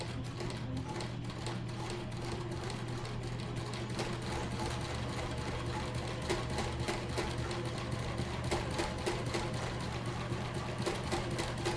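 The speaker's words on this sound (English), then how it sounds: "I'm going to stitch forward and then stitch back and then go all the way to the end and stitch forward" A sewing machine stitches forward and back across a fabric face mask, a continuous close rapid mechanical chatter running evenly for the whole stretch.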